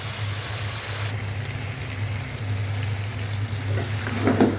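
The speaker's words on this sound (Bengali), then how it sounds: "এখন আমি মশলাটা সুন্দর করে কষানোর জন্য বেশ কিছুক্ষণ অপেক্ষা করবো" Chicken curry spice paste frying in oil in a pan, a steady close sizzle with no voices, faint stirring scrapes toward the end.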